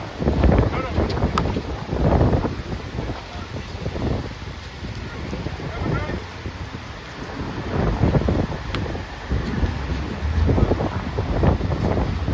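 Strong wind gusts buffet an outdoor basketball court on Shore Road, a steady roaring rumble with microphone buffeting that swells and eases throughout, loud and close, with no clear voices.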